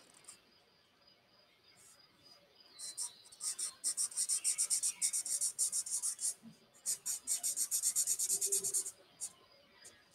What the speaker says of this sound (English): I'm going to get a yellow marker, use a crayon too. We'll color part of his beak yellow.